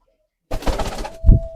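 A pigeon brooding eggs in a pigeon house coos once near the end, a low throaty burst following a stretch of rustling, ruffling noise after a brief quiet start.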